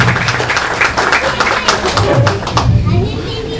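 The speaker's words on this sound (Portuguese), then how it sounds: "Eu gostaria de uma salva de palmas." An audience at a speech claps together in a dense, close patter that thins out toward the end, with a few voices murmuring underneath.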